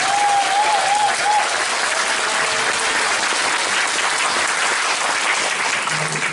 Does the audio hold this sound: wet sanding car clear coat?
no